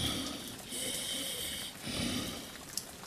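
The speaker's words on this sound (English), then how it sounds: "He stood and listened to the labored breathing for a long while." Slow, heavy, rasping breaths rise and fall in a quiet room in an audio drama, with a snore-like rattle on each long, labored cycle and no talking.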